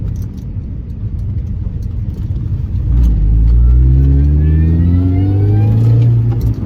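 A car on mid-price tyres accelerates hard with traction control switched off. A loud, close engine rumble swells into steadily climbing revs, with no talking.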